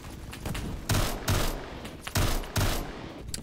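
Rapid automatic fire from a G11K2 rifle in the Roblox shooter Phantom Forces, delivered as four or five short, extremely fast bursts that come loud and close, with brief gaps between them and no talking.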